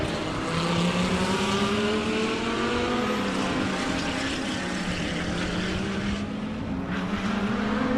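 Lamborghini race cars roar past on a circuit into turn 1 during a SAGT race, a loud continuous engine drone with rising and falling pitch as the cars pass close together.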